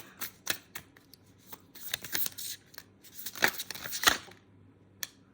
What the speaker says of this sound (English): I was just shuffling this card to see what some of the challenges might be.